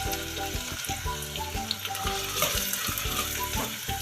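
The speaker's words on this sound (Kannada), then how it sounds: "ಬಿಸಿ ಆಗಿದೆ ಎಣ್ಣೆ. ಈರುಳ್ಳಿ ಹಾಕ್ತಾಯಿದ್ದೀನಿ." Chopped onions fry in hot oil for an egg masala. The sizzle is close and steady, crackling and popping, with stirring scrapes and no one speaking.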